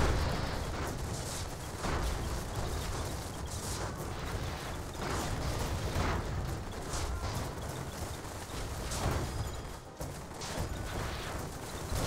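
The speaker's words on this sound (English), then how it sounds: "Oh, we've got rockets incoming." Rockets and artillery shells pound the battlefield in Airships: Conquer the Skies, a dense, continuous barrage of booming blasts and crackling impacts that keeps up without a break.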